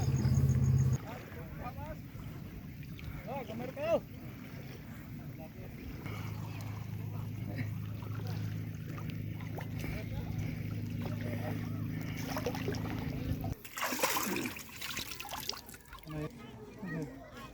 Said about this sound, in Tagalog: ang lakas na ng alon at saka malakas na din ang ulan. Lakas na din ng hangin.